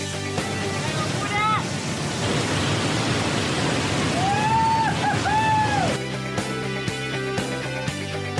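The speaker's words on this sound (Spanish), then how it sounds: "Qué increíble atrás de esa cascada." Angel Falls in Canaima heard from behind the cascade, a steady, loud broadband roar of falling water that fills the whole clip, with voices talking and exclaiming over it.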